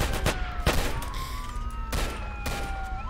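Rapid bursts of gunfire in a Roblox war game set in Vancouver, loud volleys of fusillade crackling repeatedly over a steady background with a faint siren-like tone.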